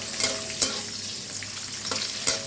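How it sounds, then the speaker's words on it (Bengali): Cashews and raisins fry lightly in ghee in a pan for pulao, a soft continuous sizzle broken by a few sharp scrapes and clicks of a spatula stirring them. "এবার আমি ভালো করে এই কাজু কিশমিশটা ভেজে নেবো"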